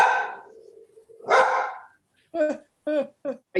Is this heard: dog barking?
yes